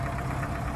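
A tractor engine idles and rumbles steadily close by in a rural farmyard, with a low knocking diesel throb and no talk.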